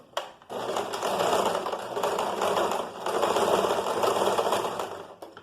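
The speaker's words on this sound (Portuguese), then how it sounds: "a gente faz a costura prendendo aqui na lateral" A sewing machine runs steadily for about five seconds, close and even, stitching a side seam with a 1 cm margin on a folded edge.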